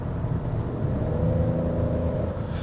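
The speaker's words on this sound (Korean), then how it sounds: "일단은 기어가 한 단 낮아지면서 RPM을 좀 끌어올리는 모습을 확인할 수 있는데요" Peugeot 3008 with 1.2 PureTech engine in sport mode, revs rising after a downshift: a low, steady engine hum and rumble heard from inside the cabin, moderately quiet with no talk.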